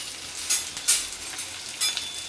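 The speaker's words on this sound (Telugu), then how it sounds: "ఇలా మొత్తం యానియన్స్ అన్నీ కూడా ఈ నూనెలో బాగా మనకు ఫ్రై అయ్యేదాకా బ్రౌన్గా ఫ్రై అయ్యేదాకా వేయించాలన్నమాట" Onions frying in oil for a homemade fish curry, a soft steady sizzle with a few brief louder bursts of stirring, close by and with no talk.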